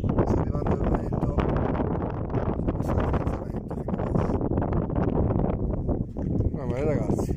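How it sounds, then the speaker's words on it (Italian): Strong wind buffets an outdoor microphone with a loud, continuous roar, and people talk underneath it. "Ora sta arrivando il vento."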